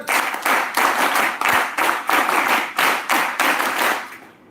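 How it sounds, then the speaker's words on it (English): Audience applause for speakers at a defence talk event, rhythmic group clapping in strong regular bursts, loud and close, fading out at the end. "Hey audience, give up a huge round of applause for the distinguished speakers for today's discussion."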